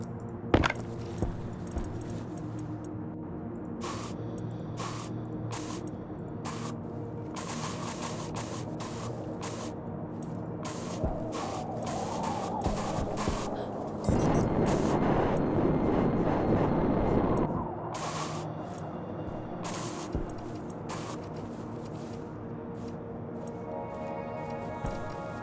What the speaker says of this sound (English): Okay, spray paint.